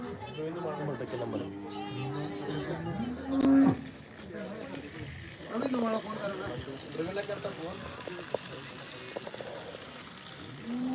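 A cow lets out a short, loud moo at a milking competition amid a busy crowd of voices and chatter, with farm-fair bustle continuing around it.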